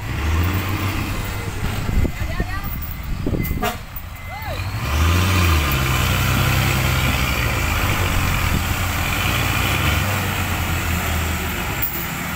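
A heavy tractor engine rumbles and strains continuously nearby, pushing a vehicle stuck in a mud pit, with a brief horn-like toot early on and voices in the background.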